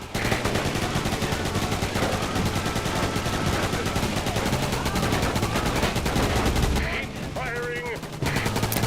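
Dense, continuous machine-gun and rifle fire in the Roadkill video game, rapid rattling bursts close and loud that briefly break off near the end, with voices speaking over the shooting.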